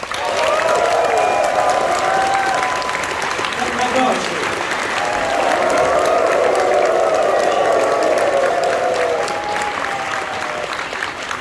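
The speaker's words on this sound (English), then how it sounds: "put a huge round of applause together for the whole convention team, the staff, the crew, and the directors" A large convention audience at a furry convention opening ceremony applauds and cheers, dense sustained clapping for over ten seconds with whoops and voices mixed in.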